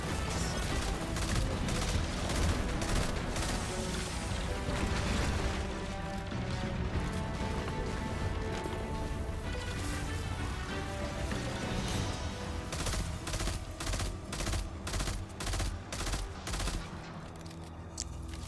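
Sustained heavy gunfire and crashing impacts in Destiny 2 fill the whole stretch, loud and continuous, shifting into a run of sharp, evenly spaced shots toward the end, with no voices over it.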